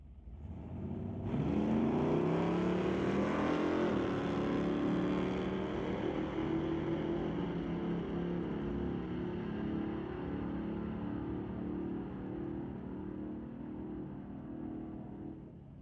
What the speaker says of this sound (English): Kevin Major brings out the 1990 S10 Blazer, racing against Kai Jessamyn's Monty